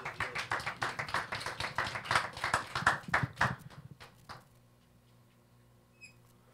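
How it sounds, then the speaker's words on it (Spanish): A church congregation claps for the Lord after a closing prayer in a Spanish-language service, giving a quick, rhythmic burst of hand claps that thins out after about four seconds, then quiet room tone. "Y dale un aplauso al Señor."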